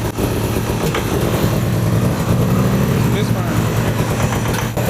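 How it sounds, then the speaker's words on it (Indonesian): An old abandoned Ford Mustang GT's engine runs roughly and unevenly after being revived in a field, a close, loud, throbbing idle that stays steady while people talk over it. "Kedengarannya seperti ngadat, tapi mesinnya nyala."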